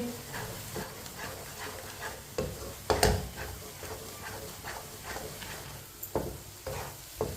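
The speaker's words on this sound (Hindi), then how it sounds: "अब इसे 2 मिनट के लिए ऐसे ही चम्मच लाते हुए पका लेंगे।" Eggs cooking in a pan while being stirred with a spoon, with a soft, steady sizzle under scattered scraping taps and one sharper clatter partway through.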